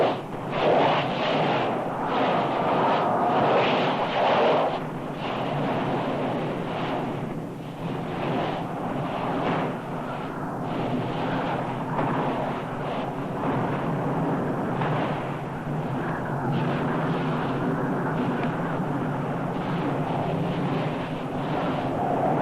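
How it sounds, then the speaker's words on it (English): Nyiragongo's lava lake churns and rises, a continuous deep roar with rumbling surges and wind buffeting, steady and heavy throughout, no speech. "Many times each day, without warning, the molten lava rises hundreds of feet and fills the fire pit."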